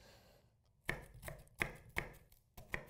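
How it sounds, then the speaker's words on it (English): A knife dices onion on a cutting board in sharp, close chops: four distinct strikes spaced unevenly over a few seconds, with no voices. "And we're gonna do a quick dice on these."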